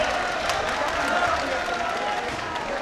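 Applause from an audience at a poetry recital at the Nauchandi Mela in Meerut, a steady wash of clapping from many hands, fairly loud and continuous throughout.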